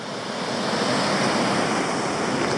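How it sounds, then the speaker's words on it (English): Adams Falls in Tasmania, heard from on top of the waterfall, roars as a steady, loud broadband rush of falling water with no break and no voices. "I'm at Adams Falls and we're sort of standing on top of it now."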